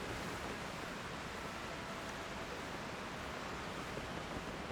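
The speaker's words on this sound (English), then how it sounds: "There's a waterfall." Waterfall in the video game The Legend of Zelda: Tears of the Kingdom, a steady, even wash of falling water with no breaks, heard alone at low volume.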